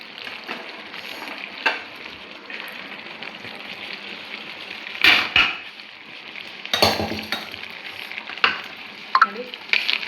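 Clam sukka (maruvayi) with roasted coconut being stirred in a pan: a low sizzle broken by several spoon scrapes and metallic knocks against the pan, some louder bursts toward the end.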